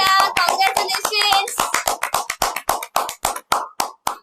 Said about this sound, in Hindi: तो जोरदार तालियां कोलकाता के लिए और मेखला जी के लिए।